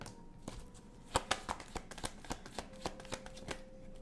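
Tarot cards are shuffled close by in a run of crisp, evenly spaced riffling snaps and slaps, with a faint tone humming in the background.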